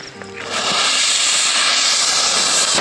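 Firecracker bomb hissing loudly and steadily after a brief spark, shooting off like a rocket with a sustained close, bright fizzing spray that lasts to the end.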